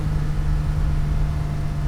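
A 1987 Porsche 911 Carrera 3.2 driven hard on a road, its engine a steady, loud low drone with a strong hum running unbroken throughout.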